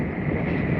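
Wind buffets the microphone while riding a Onewheel, a dense, loud low rumble of gusting noise that continues without break and masks any other sound.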